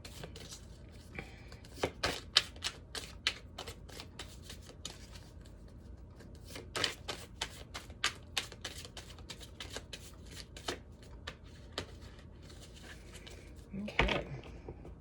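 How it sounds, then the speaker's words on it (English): A deck of tarot cards shuffled by hand, rapid riffling bursts and soft slaps repeating in quick clusters, close and fairly quiet, ending in a louder flurry. "Difficult shuffle."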